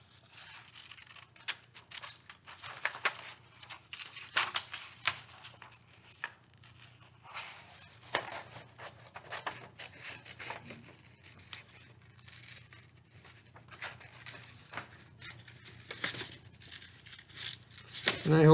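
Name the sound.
cutting out a paper hand print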